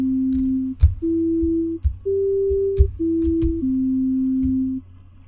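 An A-Series modular synth rack extension plays a sequence of sustained pure tones, each stepping to a new pitch and swelling in and dying away, with soft clicks at the note changes, clear and alone.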